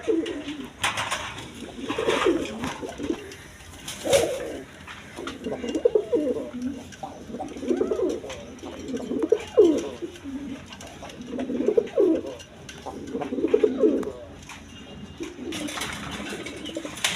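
A pair of big red Gorra pigeons coo in repeated low, throaty bursts, close by, with soft rustling between calls and someone speaking intermittently in the background.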